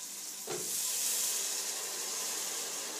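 About 1.5 liters of hot water hits a cooking pot of beef youvetsi seasoned with salt, pepper and bay leaves. It starts abruptly, then a steady rushing, hissing pour continues close by.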